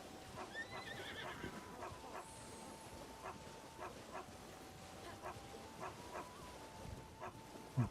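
Horse neighing in the Elden Ring video game, a whinny over steady game ambience with a faint tonal hum and repeated soft thuds through the background.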